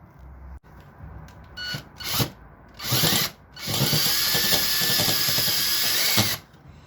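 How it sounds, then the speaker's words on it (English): A handheld power drill bores a couple of pilot holes for mounting a SharkBite hose bib in a garage, with short stuttering bursts followed by a longer steady whine, close by. "I'm going to just carefully drill a couple of pilot holes here"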